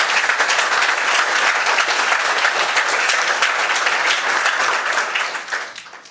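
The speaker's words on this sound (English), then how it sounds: "Can we give another round of applause to the choir?" Sustained applause from an audience honoring a women's prison choir, dense and steady clapping throughout before tapering off near the end.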